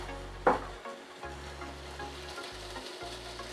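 Small bite-sized canapé pieces fry in a warm pan that gets shaken, giving a continuous close sizzle with a sharp clatter near the start and a low rumbling scrape that starts and stops as the pan moves.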